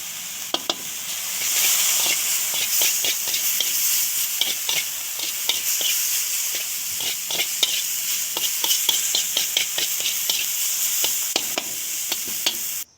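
Pork sizzling and being stirred in a hot pan with old-style holy basil stir-fry powder, a steady loud frying hiss broken by repeated scraping clacks of the spatula, close and continuous with no talking.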